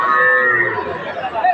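Calves moo loudly and close by, a long drawn-out bovine call that fills the moment at the Ambari cattle market in Dinajpur, with faint crowd chatter in the background.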